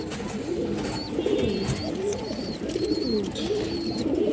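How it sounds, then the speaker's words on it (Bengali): A male Jak pigeon coos in a repeated, rolling rhythm close by, with faint chirps from other birds in the background. "একটা জাক নর কবুতর"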